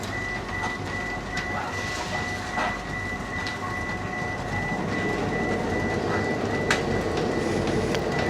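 A train carrying motorbikes and riders rumbles steadily on its rails, with a constant low roar, a faint sustained whine and occasional clanks, growing slightly louder toward the end.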